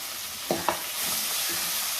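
Onions and small tomatoes sautéing in a pan for prawn thokku, a steady close sizzle with a couple of quick spatula knocks near the start.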